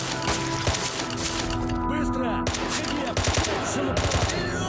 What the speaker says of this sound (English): I can't tell if they're shooting at me or not.